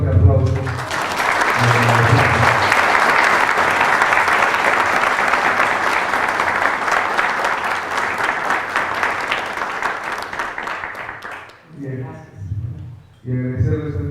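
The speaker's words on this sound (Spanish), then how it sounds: "ofrecerle un fuerte aplauso." Sustained audience applause fills a lecture hall after a talk on the Andean calendar, loud and steady for about eleven seconds before fading, followed by a speaker's voice addressing the crowd.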